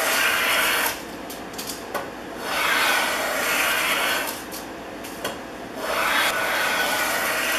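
Stanley No. 130 double-end block plane, nearly a hundred years old, shaving wood in an old workshop: three long rasping strokes with short pauses between, loud and close, no voices.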